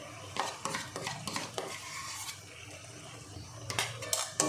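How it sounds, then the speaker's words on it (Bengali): A utensil stirs and scrapes whisked sour yogurt into spices in a pan for a prawn and pointed gourd curry, making quick close clinks and scrapes over a light sizzle with no talking. "এবার আমি ফেটিয়ে রাখা টক দইটা দিয়ে দেবো"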